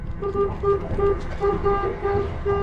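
A boat horn sounded through the radio hailer on a 2033 Stabicraft boat, giving a loud repeating pattern of short electronic toots in a steady rhythm, close and prominent.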